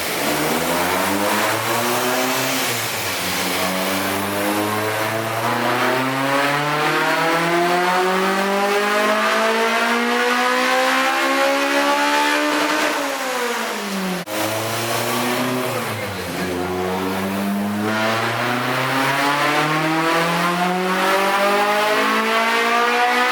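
Honda EG hatchback with a B18C5 Type R engine and flame-spitting exhaust revs hard on a dyno, two long loud pulls climbing steadily in pitch to high rpm, with a brief drop between them and no voices.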